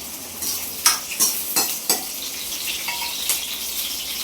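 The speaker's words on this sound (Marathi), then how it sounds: "आता याला फोडणी देते." Tempering spices sizzle and crackle in hot oil for dal, with a handful of sharp pops and light stirring clinks over a steady frying hiss.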